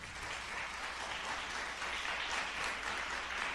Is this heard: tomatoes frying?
no